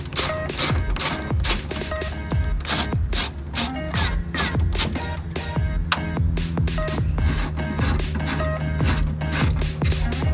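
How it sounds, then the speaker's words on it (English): A ratchet wrench clicks in rapid, repeated bursts while tightening bolts on Hella headlight covers fitted to a BMW E30, the close, steady pawl ratcheting continuing alone throughout. "So we'll tighten up, put all the bolts on, put all the clips on, and we'll be good to go."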